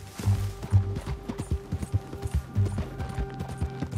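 Hooves of a horse in the Red Dead Redemption 2 video game, a quick uneven clip-clop patter of a galloping gait, fairly close and moderately loud, with no talk.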